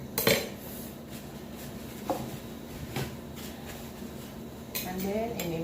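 Utensils clink and scrape against a dish while food is mixed, a few sharp knocks standing out over a low steady background.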